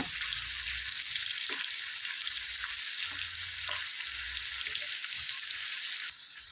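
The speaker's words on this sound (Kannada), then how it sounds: "ಮೀಡಿಯಮ್ ಫ್ಲೇಮ್ ಇಟ್ಕೊಂಡ್ಬಿಟ್ಟೆ ಚೆನ್ನಾಗಿ ಫ್ರೈ ಮಾಡ್ಕೋಬೇಕು ಈರುಳ್ಳಿನ" Onions fry in a pan over a medium flame for potato dum biryani, giving a steady close hiss and crackle with occasional stirring scrapes throughout.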